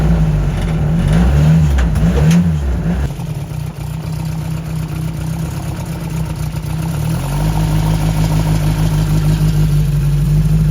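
Car engine running at close range in a barn, loud with a few revs at the start, then settling into a steady rumbling idle.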